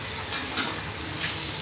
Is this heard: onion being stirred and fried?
yes